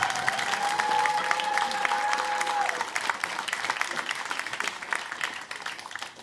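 A studio audience at a comedy talk show breaks into sustained applause. The dense clapping stays loud and steady for several seconds before easing slightly toward the end.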